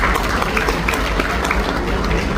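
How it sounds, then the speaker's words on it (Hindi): At an interfaith gathering of the Jain community and saints in Jalandhar, a crowd claps loudly and steadily, a dense wash of applause with no break. "मैं चाहूँगा कि हम सब मिलकर पूरे जैन समाज के तालियों से इस चीज़ के लिए हौसला बढ़ाएं"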